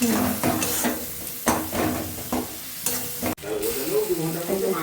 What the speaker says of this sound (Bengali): হ্যাঁ, এবার এটাকে ভালোভাবে ভাজতে হবে।